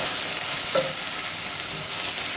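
Oyster mushrooms sizzle and fry in a pan with a steady, dense crackle throughout, close and fairly loud, with a faint stir near the start; no one speaks.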